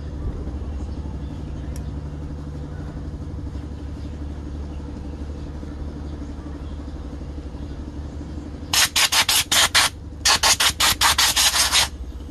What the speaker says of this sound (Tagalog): pwede na natin punasan to ng malinis na basahan